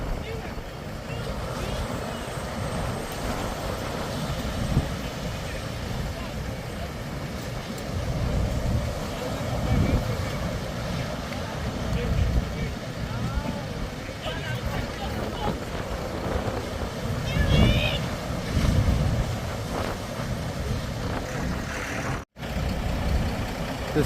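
The boat Ocean Commotion heads back in, its engine a loud, steady rumbling drone mixed with water and general harbour noise, while people talk over it throughout.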